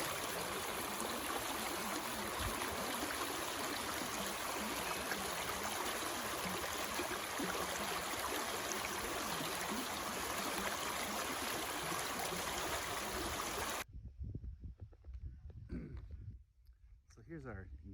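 A flowing stream along a farm property driveway, a steady broadband rush of water running continuously before cutting off abruptly near the end, where faint scattered sounds remain.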